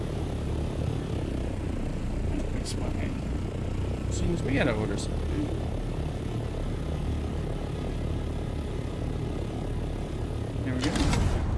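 A low, steady aircraft drone hums throughout a flight in the Dune video game, with occasional faint interface blips and a person talking briefly over it.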